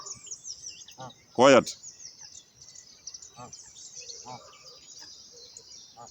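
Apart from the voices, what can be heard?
birds chirping loudly outdoors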